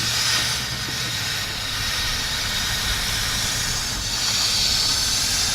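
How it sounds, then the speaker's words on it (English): A steady, loud hiss of steam escaping from an overheated 1997 BMW 528i E39 engine goes on throughout, with a low rumble underneath and no voices. "it's a lot of steam, ain't it?"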